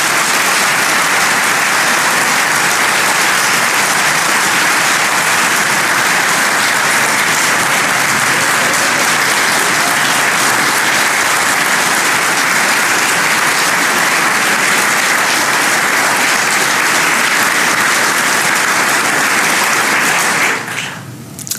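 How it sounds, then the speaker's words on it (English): A ceremony audience at the Pentagon Hall of Heroes induction applauding the speaker's interpreter on becoming a U.S. citizen; loud, sustained, dense clapping for about twenty seconds before it cuts off abruptly. "you can clap for that"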